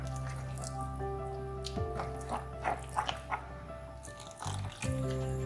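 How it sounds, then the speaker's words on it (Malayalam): Water poured into rava idli batter in a home kitchen, soft trickling and squishy liquid sounds with faint drips, quiet and close, against low background hum. "അരക്കപ്പ് വെള്ളം ഇപ്പൊ ഒഴിച്ചിട്ടുണ്ട്"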